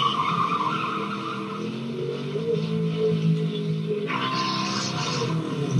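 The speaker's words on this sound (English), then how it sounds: "But the Chevy gets all squirrely, loses control, and rolls off the side of the road." A Chevy hot rod skids and loses control in a road race scene from the film American Graffiti, with a loud, sustained tire squeal over a roaring engine that shifts pitch partway through.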